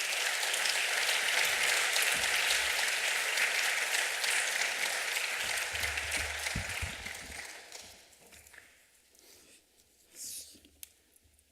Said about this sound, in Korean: 이제 목사님 나오실 때 여러분 환영의 박수 한번 드리겠습니다